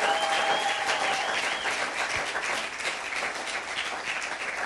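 A church crowd at a French-speaking revival gathering breaks into sustained, loud applause and cheering, dense clapping filling the room steadily from start to finish.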